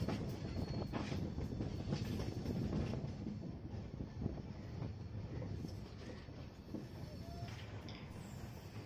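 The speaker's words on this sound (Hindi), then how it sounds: "ट्रेन अपने अगले स्टॉपेज कटिहार जंक्शन पे थोड़ी देर से ही सही लेकिन शाम ढलते ही पहुँच गई" A passenger train pulls into Katihar Junction station at dusk, a steady rolling rumble of rail cars with faint wheel clatter and some wind buffeting, holding at a fairly even level throughout.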